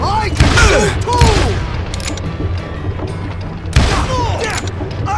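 Gunfire in Call of Juarez: Gunslinger, a Western shooter game, with loud, sharp broadband bursts near 0.4, 1.2 and 3.8 seconds over dense battle noise and shouting voices.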